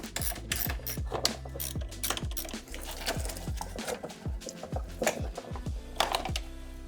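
Hand ratchet working loose the 10mm bolts on the AC hoses of an R53 Mini Cooper S supercharger parts car, a steady run of quick close clicks in rhythmic bursts, with no talking.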